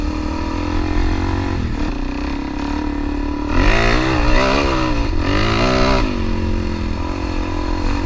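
Suzuki DRZ400 motorcycle ridden on a farm, its engine droning steadily up close, then revving higher with rising and falling pitch through the second half, loud and continuous with no talk.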